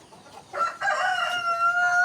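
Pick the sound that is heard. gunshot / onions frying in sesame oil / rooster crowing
rooster crowing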